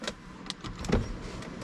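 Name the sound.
electric power seat motor moving in a Dodge Charger Hellcat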